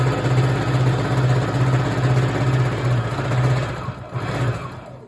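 A sewing machine runs steadily while chain piecing a seam on a nine-patch quilt block, a continuous mechanical hum that dips briefly near the end before resuming, close and alone with no talk.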